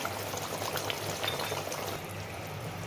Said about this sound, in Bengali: একটু কাঁচা সর্ষে তেল দিচ্ছি